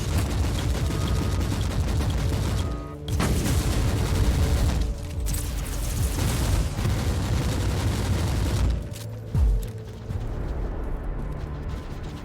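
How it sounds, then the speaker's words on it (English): Mortar artillery fire pounds an Imperial fort in the Warhammer 40K Inquisitor Martyr video game, a loud continuous barrage of booming blasts and rattling gunfire with a few brief lulls. "their mortars attack the Imperial fort with artillery fire"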